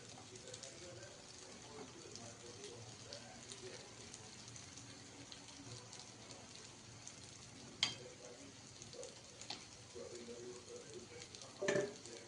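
Sweet paniyaram frying in ghee in a pan, a faint, steady sizzle with soft crackle, a few sharp clinks of a utensil and some quiet talk in the background.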